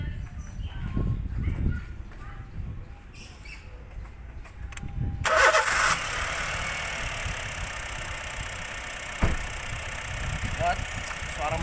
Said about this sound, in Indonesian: ini kita cek engine ya, kita nyalahin